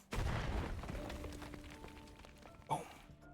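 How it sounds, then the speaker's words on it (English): An energy blast explosion in the video game Snowbreak: a heavy low boom at the start that rumbles and fades, layered with tonal game effects, then a second sharper burst near the end. "The explosion knocked me back a step"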